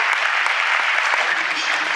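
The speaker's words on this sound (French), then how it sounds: "je vais l'applaudir plus fort que ça" Loud, dense audience applause at a local sports awards ceremony in Sausset-les-Pins, a continuous roar of many hands clapping, close and sustained throughout.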